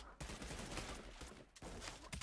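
Rapid, dense gunfire bursts in the battle royale video game Realm Royale, loud and nearly continuous with a couple of brief pauses between volleys.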